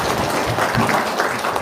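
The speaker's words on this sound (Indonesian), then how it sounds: "Tepuk tangan dulu dong buat Mas Abi yang membalisa" An indoor audience breaks into applause, dense clapping heard close and continuous throughout the short stretch, with no pauses.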